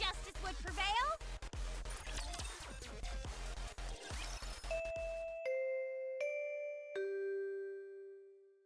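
A school bell chime rings in the NIKKE game, four clear sustained tones stepping down in pitch near the end, following a stretch of busy game music and voices.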